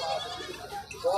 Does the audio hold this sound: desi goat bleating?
yes